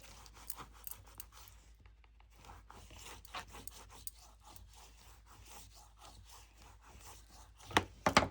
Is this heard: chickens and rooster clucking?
no